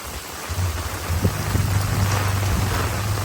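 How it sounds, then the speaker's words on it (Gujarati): Heavy monsoon rain pours down on a village road in a steady, dense hiss, with a low engine rumble running underneath. "એટલો વરસાદ પડે છે ફૂલ જ"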